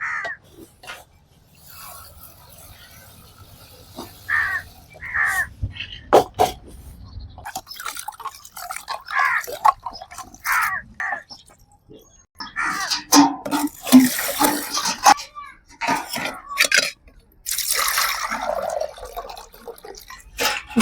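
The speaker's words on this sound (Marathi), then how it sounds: "आता तांदूळ पण धुवून घेऊ मस्त 2-3 पाण्यानं चकचक" Rice being rubbed and rinsed in water in a pot, giving close scraping, swishing and splashing bursts that come and go irregularly, with some louder stretches toward the end.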